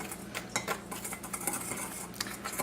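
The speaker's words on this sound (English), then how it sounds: "I'm just going to mix it all around so that everything is combined nicely" A whisk mixes a marinade for pork ribs in a bowl, with rapid, continuous metallic clicking and scraping against the sides that stays close and fairly loud throughout.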